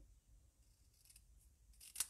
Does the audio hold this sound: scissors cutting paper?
yes